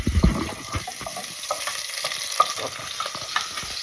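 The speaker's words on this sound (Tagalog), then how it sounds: "Halo-haluin lang" Onions and garlic stirred in a frying pan, a steady close sizzle with scraping spatula strokes, a heavier clatter at the very start and lighter scrapes throughout.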